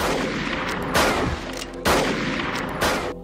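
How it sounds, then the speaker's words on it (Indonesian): Pistol shots in a western film, three loud sharp reports spaced about a second apart, each with a booming tail, over a dense background of movie sound. "Graf menembakkan pistolnya beberapa kali."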